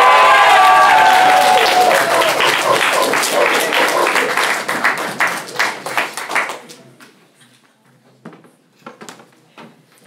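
A comedy club audience applauds and cheers as comedian Pranit takes the stage at a college standup show, a dense loud wave of clapping that thins out into scattered individual claps and fades away.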